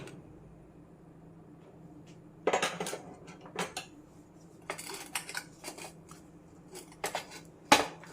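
Peda mixture is stirred with ghee in a pan, a spoon scraping and clinking against the metal in scattered bursts over a quiet background.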